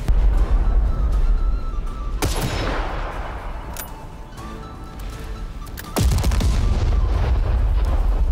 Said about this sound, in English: There's that shotgun turret ammo coming in handy already.